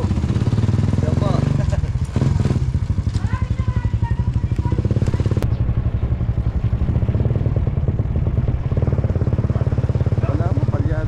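A motorcycle engine putters loudly nearby, its rhythmic chugging steady over several seconds, with voices talking over it at moments.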